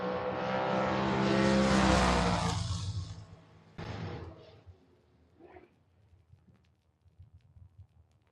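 A Chevrolet Malibu and a Ford Mustang drag race at a Door Wars meet. A loud engine roar builds and swells for a few seconds, then cuts off sharply and fades into quieter distant track noise.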